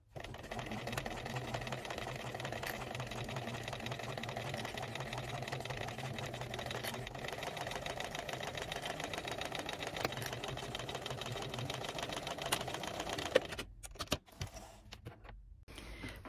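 Sewing machine stitching an eighth-inch seam on a fabric pouch, a fast steady mechanical whirr for about thirteen seconds, close and fairly quiet, stopping into brief clicks and handling noises.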